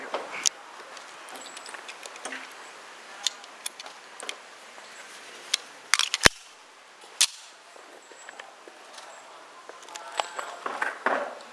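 CZ 97B .45 pistol fired with practice ammunition at a shooting range, heard as sharp, distant-sounding cracks spaced irregularly among quieter clicks and handling noises.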